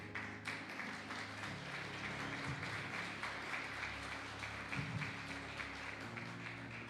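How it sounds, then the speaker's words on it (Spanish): Church congregation applauds the Lord, a soft, distant wash of many hands clapping over a low hum of the room, steady throughout with a few louder bumps. "Y le damos una ofrenda de aplausos al Señor."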